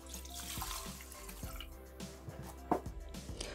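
Water is poured into a Thermomix TM6 mixing bowl, a soft trickling and splashing stream with occasional drips, quiet and close, with no voices.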